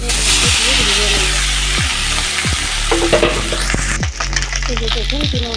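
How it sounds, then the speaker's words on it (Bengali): Small chuno and puti fish coated in salt and turmeric fry in hot mustard oil in a kadai, a loud close sizzle with spatter and utensil scrapes while someone talks over it. "সর্ষের তেল গরম হয়ে গেছে, তেল উঠে গেছে। এখন আমি চুনো মাছগুলো দিয়ে ভেজে নেব।"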